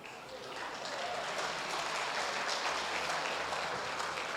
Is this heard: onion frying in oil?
no